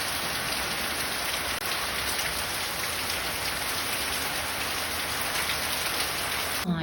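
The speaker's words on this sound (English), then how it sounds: "it's raining outside" Rain falls steadily outside, a dense even hiss of drops on surfaces that continues unbroken throughout.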